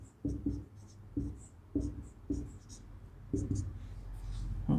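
Maths teacher writing out a solution for a smallest integer function problem, likely chalk or marker on a board, heard as short scratchy strokes in bursts with pauses.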